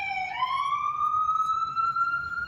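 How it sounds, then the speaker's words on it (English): Ambulance siren on a city street, a single rising wail that climbs and holds at a high pitch, clear over soft background street noise. "Oh, the ambulance coming up."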